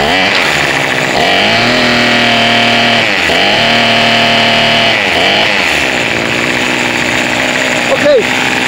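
A small engine fitted with a new Chinese Walbro carburetor runs with both adjustment screws closed, a loud, close, steady buzzing drone whose pitch sags and recovers several times, ending in a brief rise.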